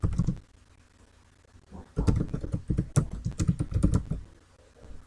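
Fingers type on a computer keyboard during an online class, with irregular bursts of close, crisp key clicks separated by brief pauses, loudest in the second half and with no voices over it.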